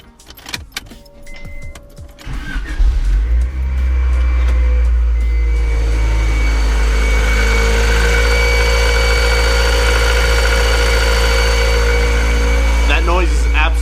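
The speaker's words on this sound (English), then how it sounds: "what we need to fix today is this hideous sound it's making" A Honda Integra engine cranks over and settles into a loud, steady idle laced with a harsh, hideous whining and rattling noise, the fault suspected to be a leaking intake manifold gasket; clicks from the start give way to a continuous drone.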